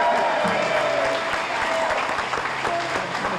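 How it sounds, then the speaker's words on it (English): Crowd applause at a musicians' hall of fame induction ceremony, a continuous full roar of clapping, loud and sustained, with a voice faintly audible under it. "Round of applause for Mr."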